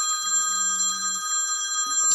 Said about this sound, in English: Don't you hate that when you're trying to discuss something, the phone rings?